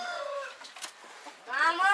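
Young roosters cluck and crow briefly on a farm, a few short, fairly faint calls with a gap between them and a louder squawk at the end.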